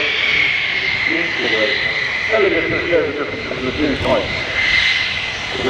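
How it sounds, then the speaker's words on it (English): A loud, steady drone of large aircraft engines fills an airshow at Farnborough, with a persistent whining tone and people talking underneath. "big aeroplane, isn't it?"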